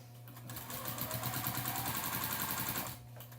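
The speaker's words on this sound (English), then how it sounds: "quilting lines on the diagonal on this, and then I'm going to sew them in the other direction later" A sewing machine quilting diagonal lines on a quilt runs in a steady, fast mechanical chatter for about two and a half seconds, close and loud, starting and stopping cleanly with no talk.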